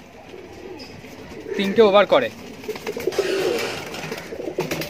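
Madrasi pigeons coo in a brief burst of warbling calls mid-clip, heard close, while someone talks nearby.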